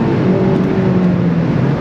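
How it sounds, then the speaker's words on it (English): Engine of an 8th-generation Honda Civic Si pulling hard under full throttle as VTEC engages, a steady loud drone with a rising harmonic whine heard from inside the car, no talk. "VTEC kicked in, guys."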